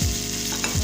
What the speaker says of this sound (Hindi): इसको भी सौते करेंगे। हल्का सा सौते करने के बाद